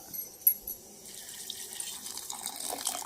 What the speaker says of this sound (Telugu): కలిపి నీళ్లు పోస్తా